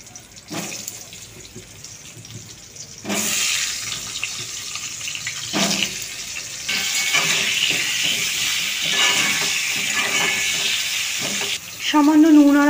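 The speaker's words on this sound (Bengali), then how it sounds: "সেই তেলেই আমি বিরিয়ানির আলুগুলো ভেজে নেব।" Potatoes frying in leftover oil in a kadai for chicken biryani, a steady hissing sizzle that swells louder midway, with bursts of stirring and clatter and a brief tonal sound near the end.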